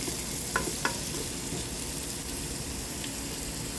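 Sweet and sour chicken with pineapple fries in a pan, giving a steady, hissing sizzle with a few soft scrapes and clinks of stirring.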